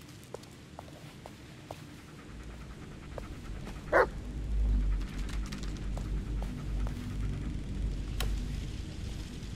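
A dog gives a single sharp bark outdoors at moderate distance, with soft panting and shuffling before and after.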